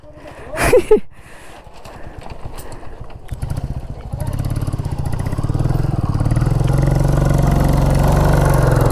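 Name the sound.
motorcycle passing on a group ride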